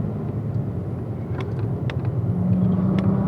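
A car accelerates onto the front straightaway of a race track, its engine a steady low rumble that builds slightly, with a rising tone near the end and a few faint clicks.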